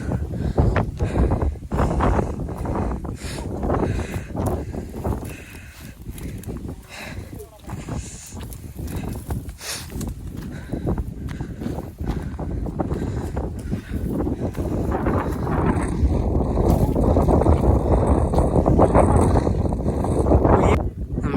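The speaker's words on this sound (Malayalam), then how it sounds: "അയ്യോ നല്ല നല്ല കാറ്റാ" Strong wind gusts buffet the microphone on a cold hilltop, rising toward the end, while people talk over it.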